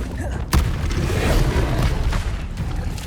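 A Confringo fire spell bursts in Hogwarts Legacy with one sharp, loud blast, then a rolling rumble of debris and game noise that carries on for several seconds.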